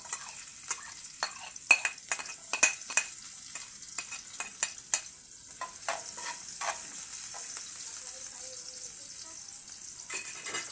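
Garlic and onion sautéing in a pan, a steady hiss of frying broken by a series of sharp scraping stirs in the first half, close and alone without talk.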